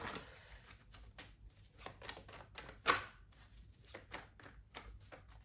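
Tarot cards are shuffled at length in quick, crisp riffling bursts that repeat steadily, fairly quiet and close, with one sharper snap partway through.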